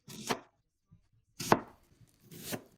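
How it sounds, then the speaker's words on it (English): A knife chops an onion into small pieces on a board: three sharp, close chopping strikes spaced about a second apart, with quiet gaps between. "First, get 1 onion, cut it in half, then chop it into small pieces."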